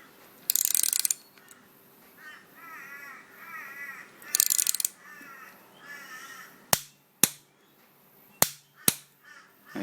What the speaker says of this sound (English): I've got my torque wrench here set to 40 Newton meters